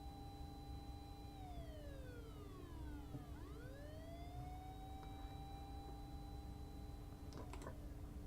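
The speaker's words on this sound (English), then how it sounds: "Apparently, they weren't too far off as sirens approaches in no time." Police sirens wail in The Fruit of Grisaia video game, faint and steady, with a siren tone sweeping down and back up as the vehicles arrive, under low background noise and no talk.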